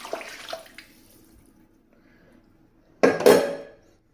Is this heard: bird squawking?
no